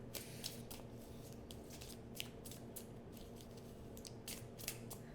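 Soft, repeated papery riffles and flicks of cards being shuffled, close and quiet, in uneven bursts with no talking.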